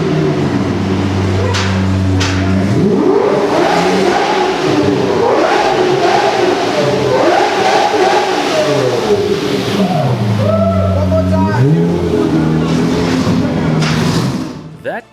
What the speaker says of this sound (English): redlining its V12, delivering a sound I'm bound to never hear again